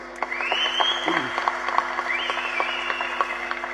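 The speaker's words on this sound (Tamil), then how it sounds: "நல்லா ஒரு தடவை கைதட்டுங்க" An audience at a film audio launch event gives a round of clapping, a steady patter of many hands that runs throughout, with faint background voices and tonal sound.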